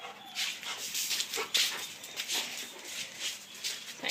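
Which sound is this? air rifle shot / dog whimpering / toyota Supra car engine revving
dog whimpering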